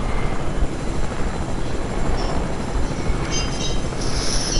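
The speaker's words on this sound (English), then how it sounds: "I have a helicopter." A helicopter flies in a video game, its rotor and engine making a loud, steady, unbroken drone throughout, with no talk.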